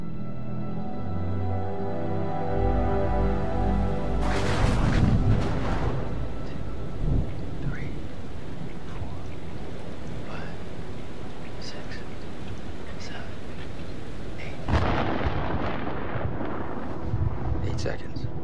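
Thunderstorm with steady rain in the horror game Man of Medan, with rolling thunder building in loud bursts around five and fifteen seconds over a constant wash of rainfall.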